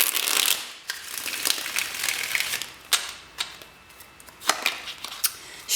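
Tarot cards shuffled by hand, a steady papery riffle with sharp snapping slaps at irregular moments, close and fairly loud, with no talking.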